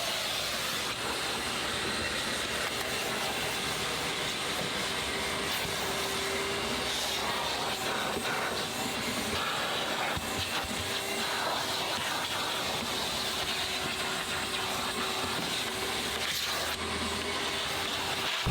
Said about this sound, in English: we do give the interior one last final vacuum